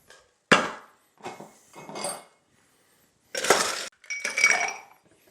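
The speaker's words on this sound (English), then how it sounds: "so let's put some ice in there." Ice cubes clink and rattle into a metal cocktail shaker while a Daisy de Santiago cocktail is mixed, several separate bursts of clattering cubes, close and fairly loud with pauses between scoops.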